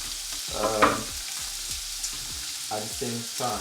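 Sausages with the skin still on fry in a pan, giving a steady crackling sizzle. Someone talks over it throughout.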